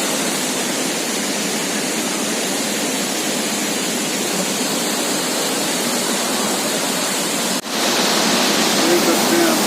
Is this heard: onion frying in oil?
no